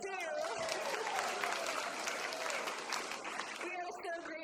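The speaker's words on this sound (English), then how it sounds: "you deserve some clapping too" Members of a Unitarian Sunday worship congregation break into a burst of hearty clapping lasting about three seconds, with a speaking voice just before and after it.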